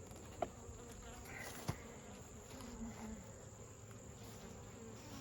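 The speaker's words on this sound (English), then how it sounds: "There's a lot of bees down in here" Honeybees hum steadily inside a nuc box in a continuous low, even drone, with a couple of faint knocks.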